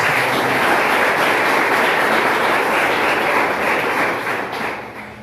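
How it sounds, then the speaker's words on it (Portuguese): Dense, sustained applause from a church prayer-group congregation, a loud even wash of clapping that fades slightly toward the end. "Vamos aplaudir a palavra do Senhor"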